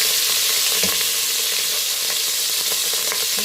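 Meat sizzles in a hot pan for adobo, a steady loud frying hiss with occasional stirring knocks and pops, close up and uninterrupted by talk.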